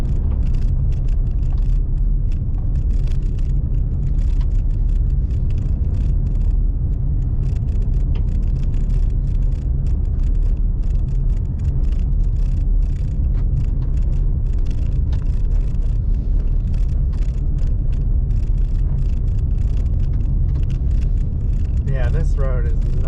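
A car drives a rough, potholed gravel road with a 25 mph limit on North Lake Cushman Road toward Staircase Campground in Olympic National Park. A steady, loud, close road rumble and tire noise continue throughout.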